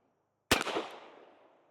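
A Korth Ranger revolver fires a single .38 Special round outdoors, one sharp close crack that rings off and decays over about a second.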